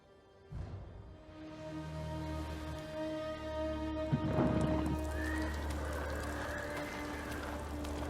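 A horse whinnies loudly in the video game Ghost of Tsushima over a steady ambient drone, followed by softer snorts and movement.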